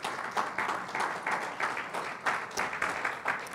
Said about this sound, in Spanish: denle un aplauso al Señor, se le dará un aplauso